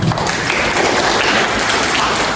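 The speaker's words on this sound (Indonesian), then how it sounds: "Tepuk tangan untuk semua." Sustained applause from a class of students fills the room, steady and loud throughout with no talking over it.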